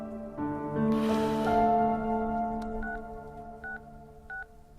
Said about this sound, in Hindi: भाभी को फोन कर।